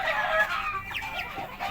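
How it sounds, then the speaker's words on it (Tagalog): Chickens raised as backyard poultry cluck in a short, busy run of calls, close and fairly loud, with no talking over them. "Manok."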